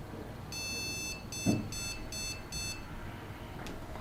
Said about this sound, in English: Four beeps?